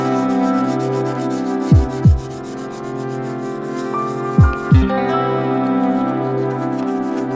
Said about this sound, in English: First I will start with 1000 grit sandpaper and move on to